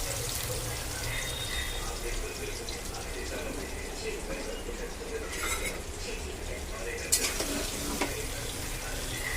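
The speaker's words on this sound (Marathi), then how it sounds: "मला चिकनचा वास बीस आहे ना त्यासाठी पहिला तेलामध्ये फ्राय करून घेतो" Chicken frying in hot oil gives a steady, broad hiss and crackle that holds evenly throughout, with a couple of sharper pops and clinks near the end.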